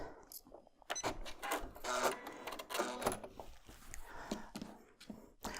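Embroidery machine stitching on a quilt block, a close, busy run of rapid mechanical clatter and needle taps with uneven pulses, fairly quiet overall.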